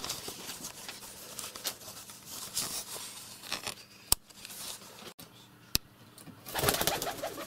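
Feral rock pigeons indoors in a room: soft cooing and rustling wing flutters close by, with a few sharp clicks and a burst of flapping near the end, all at low level.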